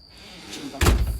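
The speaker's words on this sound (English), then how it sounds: "We're shutting this door." A door is pushed shut outdoors with a single loud, sharp slam near the end, while a thin, steady cricket chirp carries on in the background.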